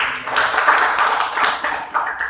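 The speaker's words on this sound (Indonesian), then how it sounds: "Tepuk tangan buat teman kalian" A class of students clapping for their classmates in a school lesson, a loud dense patter of many hands close by that runs steadily for a couple of seconds.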